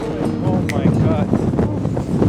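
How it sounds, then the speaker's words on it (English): Strong gusty wind at an exposed landscape viewpoint buffets the microphone with a constant low rumble, and a voice speaks close by throughout. "The wind's like so crazy, it's pushing me, man."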